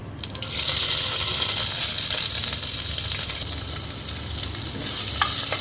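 Chopped small shallots, dried red chili and cumin hit hot oil in a pan for a spinach kootu, bursting into a loud, dense sizzle that continues steadily up close, with occasional stirring clicks.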